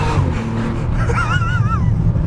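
A Bentley Continental SuperSports being driven hard through a corner, its engine giving a loud, continuous low rumble with a rising, wavering whine layered over it partway through.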